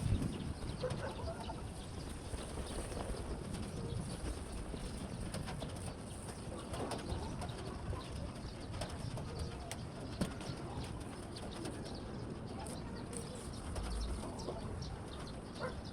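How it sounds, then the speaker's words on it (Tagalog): Pet pigeons coo softly amid a constant, fairly quiet outdoor background, the calls low and intermittent across the stretch with no talk over them. "Mayroon din siyang alagang mga kalapate."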